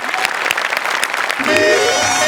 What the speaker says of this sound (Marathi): जोरदार टाळ्या यांच्यासाठी.